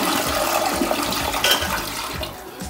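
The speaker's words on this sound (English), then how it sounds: "A real toilet has replaced you." A newly installed real toilet flushes, replacing a porta potty: a steady rush of water swirling and draining for a few seconds, close and fairly loud, with no talking.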